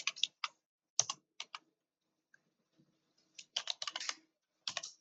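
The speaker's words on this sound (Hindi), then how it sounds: "ये आप टाइपिंग कर सकते हैं यहाँ से" Computer keyboard typing while entering a heading in a Microsoft Word document, in short quick bursts of key clicks separated by pauses, close and fairly quiet.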